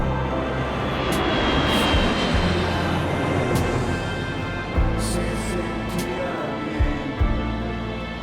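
A small airplane's engine drones steadily and loudly at close range throughout, a broad continuous roar with a few louder bumps near the end.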